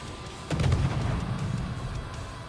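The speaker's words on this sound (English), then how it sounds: "So I'm going to give him the treatment with the guns." Naval guns in World of Warships fire a salvo at an enemy destroyer: a sharp, heavy boom with a rumbling low tail that stays loud for about two seconds, with no talk over it.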